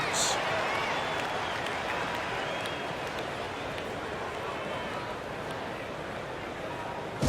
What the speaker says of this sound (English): Nice round of applause for your 76ers ENT.